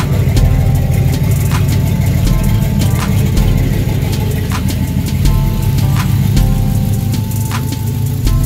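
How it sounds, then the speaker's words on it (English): Close and loud, the cam-swapped turbo 2500 HD truck engine keeps running with a deep, steady drone. A loose exhaust adds repeated sharp rattling clicks over the rumble. "The exhaust is a little rattly."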